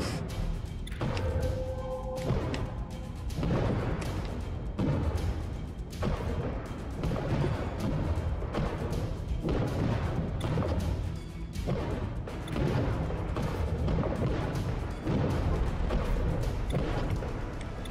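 Ship guns firing on a pirate vessel in the underwater game Diluvion, heavy booming and crashing impacts repeating through a dense, continuous battle din with rumbling low end.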